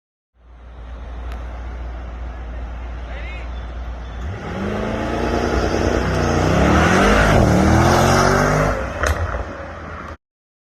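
A 2020 Mercedes-AMG GT63S engine revs hard through its downpipes, climbing in pitch with distinct gear shifts, loud and close, mixed with road noise as a voice talks over it.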